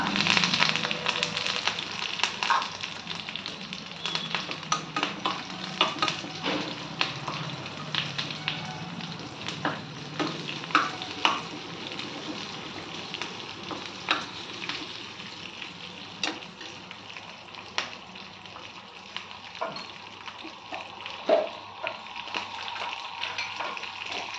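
Crushed garlic, curry leaves and onion fry in a tempering for sambar, giving a steady close hiss with scattered sharp crackles and pops throughout.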